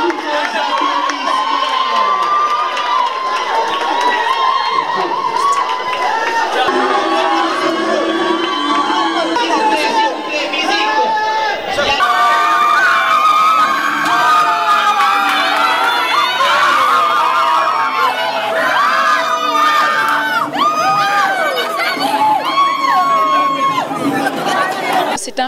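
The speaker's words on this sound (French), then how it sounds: "Tous vos applaudissements." A crowd at an inter-university eloquence contest final erupts in sustained cheering, high shouts, screams and whoops layered over chatter, loud and unbroken for the whole stretch, swelling slightly partway through.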